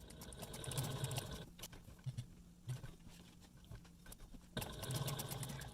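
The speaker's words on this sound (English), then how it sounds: "you want to pivot and then sew back down" A sewing machine stitches the gusset of a crossbody bag, with steady quiet whirring runs at the start and end and a pause in the middle broken by small clicks and handling taps.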